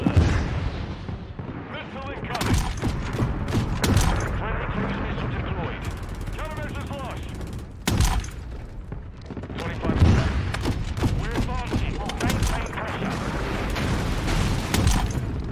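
AC-130 gunship firing in the video game Modern Warfare 2, dense heavy cannon booms and rapid bursts with mechanical clatter, loud and continuous, with voices talking over it.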